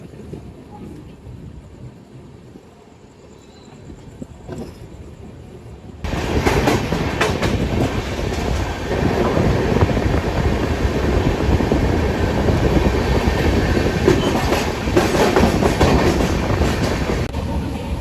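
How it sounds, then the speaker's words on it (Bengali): A quiet rumble gives way to a loud, sustained train roar with clickety-clack of wheels and occasional squeals as it departs Bardhaman station and gathers pace nearby. "অবশেষে 21 মিনিট দেরিতে আমাদের ট্রেন বর্ধমান স্টেশন থেকে ছেড়ে দিল"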